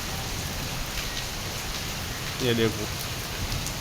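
Heavy rain falling in Lahore, an even, continuous hiss close by, with someone speaking briefly over it.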